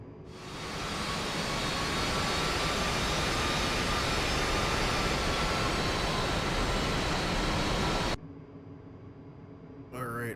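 A jet aircraft in DCS World taxis with a loud, steady engine roar and broadband whine. The roar builds in over the first second, then drops away sharply near the end, leaving quieter tones.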